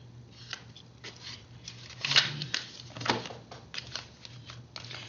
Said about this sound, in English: I like to shuffle and stuff on camera so that you all can see